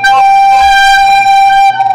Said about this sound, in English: All right. Everyone play G.